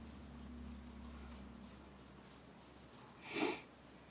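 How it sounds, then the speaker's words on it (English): A single sharp, close sniff near the end, after a few seconds of quiet room tone. "I'm sorry if you hear the sniffles"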